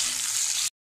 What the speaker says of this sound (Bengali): এবারে আমি টমেটোটা দিয়ে একটু ভেজে নেব